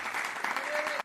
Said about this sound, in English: Can we get another round of applause for Mr. Sonny?